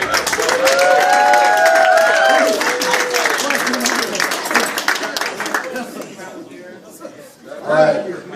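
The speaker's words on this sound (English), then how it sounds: "let's give a big round of applause for the maid of honor here tonight" Wedding reception guests applaud the maid of honor, with loud dense clapping, some cheering and chatter at first, then the applause thins and fades into crowd murmur, ending with a brief rise.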